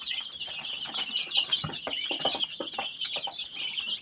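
Young chicks cheep in a busy, overlapping chorus of high chirps, close by and continuous, with occasional soft clucks and rustling of birds moving about a farm setting.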